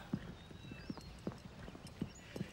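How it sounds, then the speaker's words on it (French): Hooves of a horse clip-clop in a steady walking rhythm, about six distinct knocks over a couple of seconds, fairly close and clear against a quiet outdoor background with no talk. "Quel magnifique cheval."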